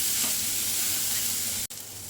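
Ginger-chili paste, asafoetida and turmeric sautéing in hot oil, a dense close sizzle broken by a single brief gap before it resumes.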